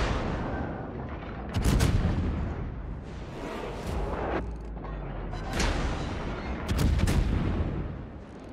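Warship guns in World of Warships boom in several loud salvos, sharp blasts spaced a few seconds apart, each trailing into a rumbling roar over continuous low battle noise.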